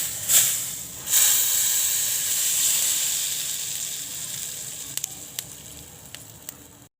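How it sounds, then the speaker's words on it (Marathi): Hot oil poured into flour for garlic masala sev, giving a loud hissing sizzle in two bursts that slowly fades, with a few faint clinks near the end. "त्यामध्ये हे गरम गरम तेल घालून घेते"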